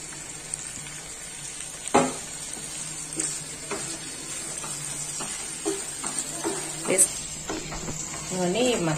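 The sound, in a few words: marinated chicken pieces stirred into frying masala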